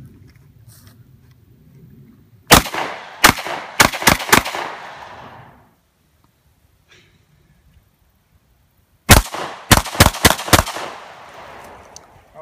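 A Catamount Fury 1 semi-auto shotgun, a Saiga 12 clone, fires outdoors in two loud rapid strings of about five sharp blasts each, with echoing decay after each string and quiet pauses between them.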